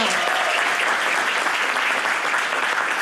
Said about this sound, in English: So that deserves a big round of applause